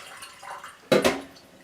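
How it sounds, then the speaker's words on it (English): Hot water dumped out of a glass bowl during cleaning, a brief splashy pour in two quick bursts after a quiet lead-in, close and fairly loud. "what I do is I dump out that hot water"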